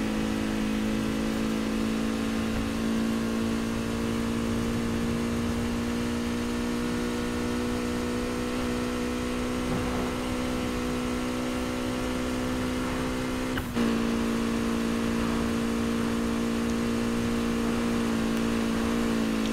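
Car engine racing in the video game Need for Speed Heat, a steady, loud mid-pitched drone that holds level for about twenty seconds, with a brief shift or gear change near the end and no talk.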